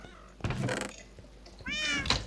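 A cat meows twice in the Minecraft cat-breeding game, a short call followed by a longer, rising, harmonic meow, with a soft thunk in the pause between them.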